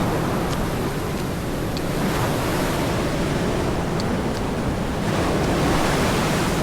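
Ocean waves rolling in off the coast of Madagascar, heard from a schooner on a fishing expedition: a steady, loud wash of surf with wind buffeting the microphone, continuous and without speech throughout.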